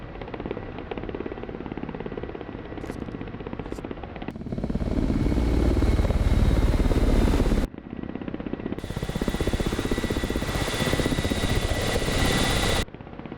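Ka-50 attack helicopter lifting off in the DCS World flight simulator: a loud, steady rotor and turbine roar that swells and thickens midway, then cuts and resumes with a brighter high whine, no voices.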